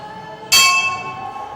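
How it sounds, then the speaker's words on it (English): A bell at a Japanese-style shrine is struck once, a sudden bright clang that rings on with a slowly fading shimmering tone, close by, with no talking over it. "The bell is supposed to wake up the god and let him know that I'm here."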